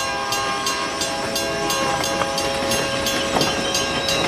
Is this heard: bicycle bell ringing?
no